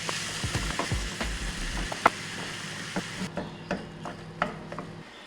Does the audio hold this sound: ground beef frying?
yes